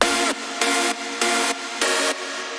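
Dry hardstyle synth chords with no effects, bright wide stabs in a steady rhythm of about four repeated chord hits with short gaps, heard alone.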